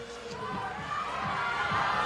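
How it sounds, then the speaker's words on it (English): A home crowd at a men's boulder climbing final in Prague screams and cheers, a steady roar swelling toward the end, with a commentator's voice over it. "And he's got his home crowd screaming."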